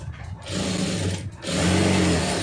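Sewing machine stitching the waist of a lining blouse, two close bursts of steady mechanical whirring separated by a brief pause, the second run longer and slightly louder.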